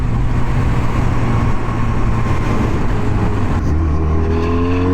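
A Regal Raptor Pilder 125 motorcycle's 125 cc engine drones loudly and steadily while riding, wind and road noise mixed in, the pitch shifting upward near the end as it revs.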